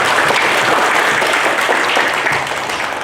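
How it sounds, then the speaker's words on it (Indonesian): Audience clapping steadily at a university outreach event, a dense continuous wash of applause that stays loud and eases slightly toward the end. "kita beri aplaus"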